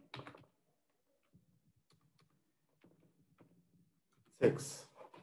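Typing on a computer keyboard while entering a Stata rename command: a cluster of soft, quiet clicks and taps scattered through the middle, with brief talk at the start and a louder burst near the end.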